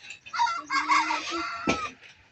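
Chickens and roosters on a farm, with a loud close crow or squawk rising over a chorus of clucking and calling fowl, then trailing off into quieter background.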